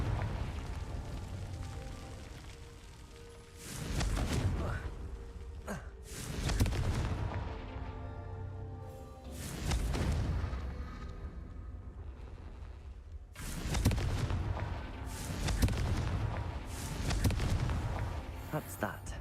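Repeated booming blasts from the Confringo fire spell in the Hogwarts Legacy video game, several heavy explosions bursting at irregular intervals over a rumbling background, with a voice speaking between them.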